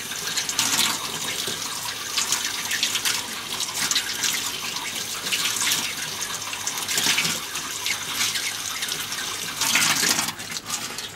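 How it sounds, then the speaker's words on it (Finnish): Water runs steadily from a tap to wet a rag, a loud, continuous splashing stream close by with no talk over it. "Vähän tippuu vettä"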